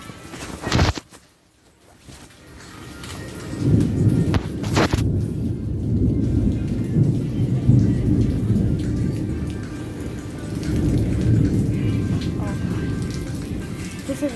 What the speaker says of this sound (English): First it was the rain, and then it was storming.